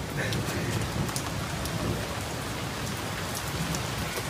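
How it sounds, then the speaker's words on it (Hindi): Heavy rain pours down hard and steady, a dense, loud hiss of drops striking surfaces that fills the whole stretch, with no clear voices above it. "देखो यार कितनी तेज होने लग गई है बरसात"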